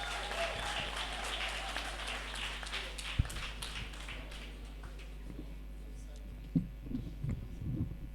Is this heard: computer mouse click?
no